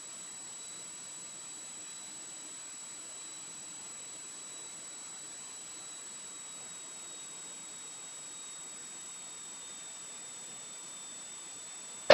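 A small training aircraft's engine during a private pilot checkride flight, heard from inside the cockpit as a steady droning roar with a high whine that shifts slightly, with no talking.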